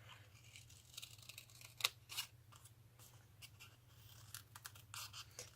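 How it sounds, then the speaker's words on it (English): Quiet snipping and crisp rustling of scissors cutting paper for a handmade card at a craft desk, with scattered small cuts over a steady low hum. "Notice how when I'm cutting, I never try and maneuver those scissors around."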